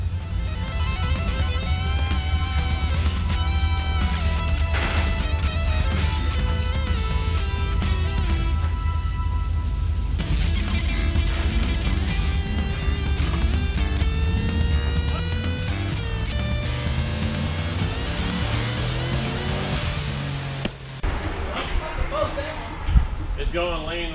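A turbocharged LS V8 in a C10 sleeper truck, with a 277/282 cam and 390 rear gear, roars steadily on a chassis dyno, its tone climbing through a long sustained pull under boost before abruptly backing off near the end.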